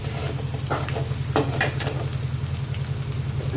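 Sliced onions frying in a pan for a fish curry, a steady close sizzle with occasional spatula scrapes and a low electrical hum underneath, no voices.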